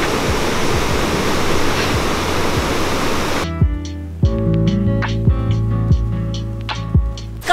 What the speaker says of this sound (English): Got to the first waterfall